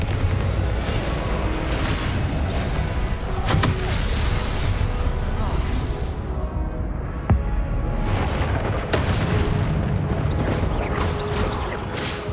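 Confringo blasting curse in Hogwarts Legacy: loud repeated booms and sharp cracks layered over a continuous roar of combat noise, with bursts clustered near the end.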